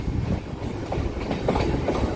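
A Machilipatnam to Bhimavaram MEMU train rolls along the rails with a loud, continuous rumble and repeated rhythmic wheel clacks, heard from inside the moving coach with no voices.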